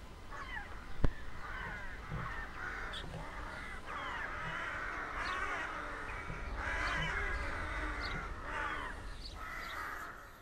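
Crows cawing and squawking while perched on a wire outdoors, several harsh calls overlapping at moderate distance in a continuous noisy chorus, with one sharp knock early on.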